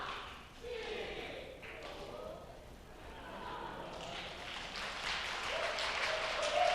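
A church congregation at a Sunday worship service claps along, with applause swelling gradually over several seconds, mixed with a voice speaking over a microphone and general hall noise.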